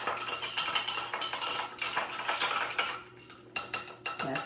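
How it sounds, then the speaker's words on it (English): A stirrer clinks and ticks against a glass of Italian cream soda in rapid, irregular taps close by, pausing briefly before a few sharper knocks at the end, with no one talking. "Now I'm going to stir it."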